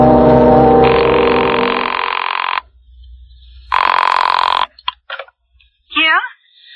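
A telephone rings in an old radio drama, with a loud sustained tone that cuts off and repeats once, followed by brief clicks and a short chirp as it is answered.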